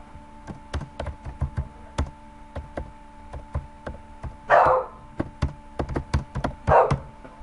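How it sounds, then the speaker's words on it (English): A dog barks twice in short loud bursts indoors, over a steady run of sharp keyboard and mouse clicks at a computer. "Dog!"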